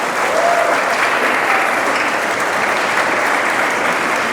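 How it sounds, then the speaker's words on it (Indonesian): Steady, dense applause from an audience at a church grand-final competition event, honoring the jury, sustained at a loud, even level throughout without talk. "Bapak Ibu tepuk tangan untuk Dewan Juri."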